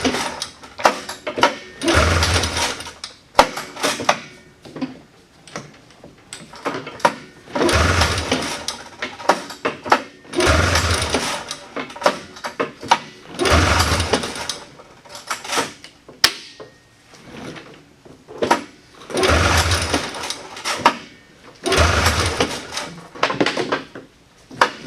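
A 1979 John Deere Cyclone 340 snowmobile engine cranks on full choke in a close, loud run of repeated pull-start bursts, about seven rhythmic cranking cycles separated by brief pauses, with no talk.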